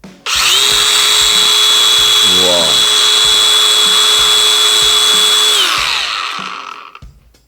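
DeWalt 4051 cordless angle grinder on a 5 Ah battery whirs up to a loud, high, steady whine that holds for about five seconds and then spins down, with a brief exclamation from a voice near the start.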